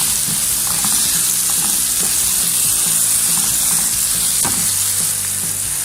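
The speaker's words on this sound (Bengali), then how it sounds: "তারপর আমি দিয়ে দিলাম পেঁয়াজ" Onion, mushroom and garlic salt frying in olive oil for chicken rice, a steady close sizzle with a few scraping stirs, running alone with no talk.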